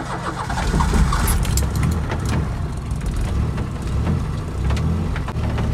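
A car engine cranks on its self-starter and catches, loud and close, with steady rain pattering throughout.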